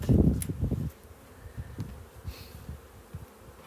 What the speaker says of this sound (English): the ladder here is full of bees